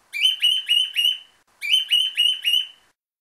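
A pet parrot gives two loud, close bursts of harsh squawks, each a run of four rapid, evenly spaced calls separated by a short silence.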